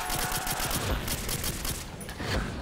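Pistol shots fired at a zombie in a custom zombies shooter game, a fast, dense string of loud cracking shots with little gap between them, close and steady throughout.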